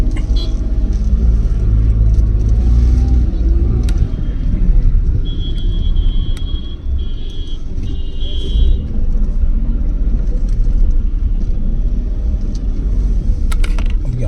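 Dense road traffic on a Delhi street on New Year, a steady loud low rumble of passing vehicles with faint horn-like tones midway.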